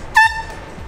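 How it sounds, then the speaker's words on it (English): A single short, loud air horn blast with a harsh tonal blare starting a scooter race, cutting off quickly and leaving quiet background noise. "I'm going to start them off with this air horn."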